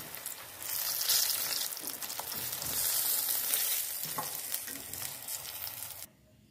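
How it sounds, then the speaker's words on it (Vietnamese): Chicken wings deep fry in hot oil with a steady, dense crackling sizzle close by, stirred now and then, before the sound cuts off abruptly near the end. "Của mình đã chiên xong rồi nè các bạn ơi."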